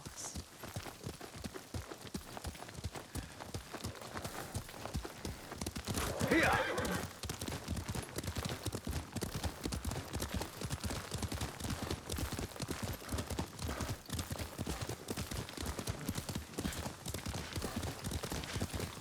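Horse hooves clip-clop steadily at a riding pace in the Ghost of Tsushima video game, a continuous rhythmic patter with a brief whinny partway through and voices talking over it.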